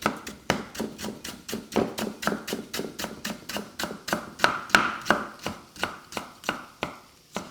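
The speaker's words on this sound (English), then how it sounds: "You don't need to peel the galangal, just slicing's fine." A knife chops through tough galangal root on a board with about twenty sharp, evenly spaced thuds, close and loud, with no talking.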